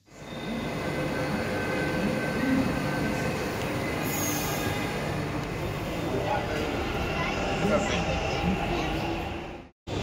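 A Bengaluru metro train running, a steady loud rumble of wheels on rail with a faint squeal and a brief high whine, continuous for several seconds before cutting off abruptly.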